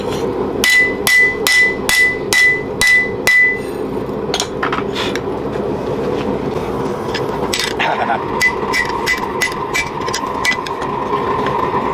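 Steel spatula being hammered on an anvil horn, a quick run of loud ringing metallic strikes followed by scattered lighter blows and taps, close, with a voice talking in places.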